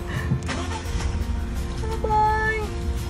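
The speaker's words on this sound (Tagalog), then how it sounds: "Sasakyan." A car rumbles past on a road near a Shenandoah hiking trail, its low engine noise steady and fairly close throughout, with faint tonal sounds and brief background voices mixed in.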